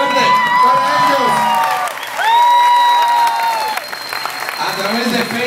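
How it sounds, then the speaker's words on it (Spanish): A studio audience at the Sábado Gigante TV show claps and cheers loudly, with rising whoops and shouts over steady clapping that swells in two waves and stays close and full throughout. "Así que quiero un aplauso bien fuerte para ellos."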